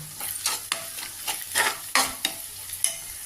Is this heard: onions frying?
yes